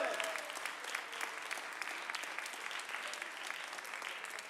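A crowd at a slam poetry competition applauds a poet in a continuous, moderately faint wash of clapping with no single voice standing out.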